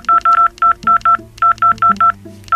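A telephone keypad being dialed: about eleven crisp two-tone beeps in quick, uneven succession, loud and close, over a faint low background hum.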